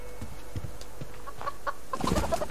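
A chicken clucks in the Subsistence survival game, a few short close clucks that grow into a louder, busier burst of clucking at the end, alone without talk.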